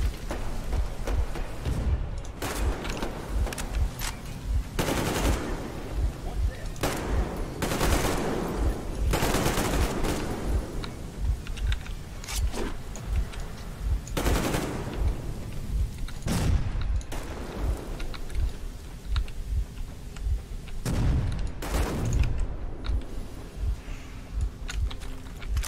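Gunfire in the Metro video game: repeated bursts of automatic shots and single loud blasts spread over about twenty-five seconds, close and dense, with no speech.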